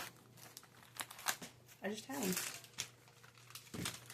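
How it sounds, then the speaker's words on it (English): Parchment paper crinkles and rips in a few short bursts, close by, under quiet talking, while hamburger patties are being made. "So I tear off a piece of parchment paper about the width of the hamburger patty"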